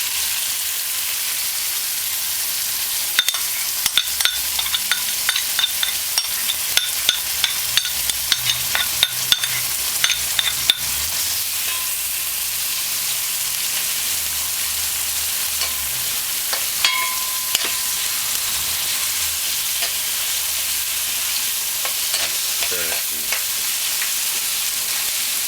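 Seasoning fries in hot oil in a pot for cabbage and saltfish, a constant hissing sizzle with clusters of small crackles and spoon clicks scattered through it.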